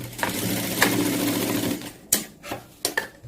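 A sewing machine stitches fabric in a tailoring lesson on neck finishing, running in a steady burst at first, then in short separate spurts with pauses between.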